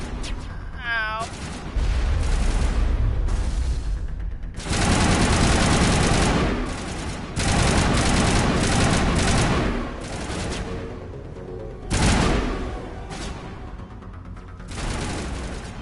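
Sustained bursts of rapid gunfire from a Mass Effect shootout, loud and dense, cutting in and out in long volleys with brief gaps and a background game soundscape.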